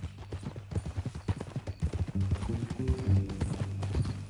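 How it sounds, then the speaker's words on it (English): Horse hooves clip-clopping in a PS4 video game: an even, close run of hoofbeats that thickens toward the end as low tonal sounds join in. "That a new horse?"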